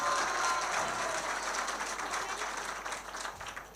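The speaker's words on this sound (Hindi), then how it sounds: "शेर का जोरदार तालियों से पूरा मजमा पहले इस्तेकबाल करें" Audience applause fills a crowded Urdu poetry mushaira in Warud, a dense, steady clapping that holds loud throughout and thins slightly toward the end.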